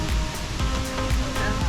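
Waterfall in Stowe, Vermont, a steep cascade giving a dense, steady rushing roar, loud and continuous, with people talking over it.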